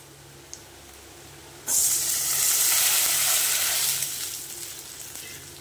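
Water poured onto a well-fried spice masala in a pan for a fish curry bursts into a loud, sudden rushing hiss of steam and sizzle that swells and holds, then slowly fades, with no one talking.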